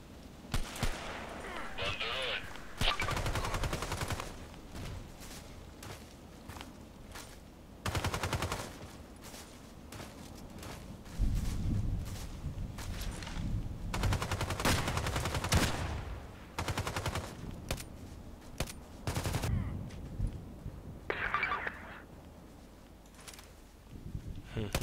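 Sniper rifle shots in the online shooter Contract Wars: several sharp, loud reports spaced seconds apart, mixed with other gunfire and game noise, with a player talking between the shots.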